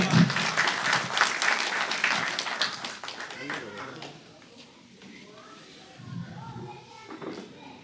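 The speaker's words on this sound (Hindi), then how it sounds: "बहुत बड़ा सम्मान है बेटी को, तालियां बजा दे एक बार" Villagers clap for a daughter honored for winning Olympic gold medals, a moderately distant round of applause that fades after a few seconds into quieter crowd murmur and voices.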